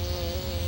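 Close, steady buzzing of a bee in an animated cartoon, a brief continuous drone without pauses or other sounds.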